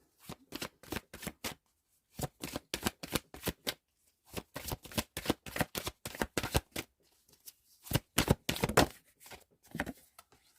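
A deck of oracle cards is shuffled in repeated rapid flurries of papery slaps and riffles with short pauses between, close and fairly soft, no talking.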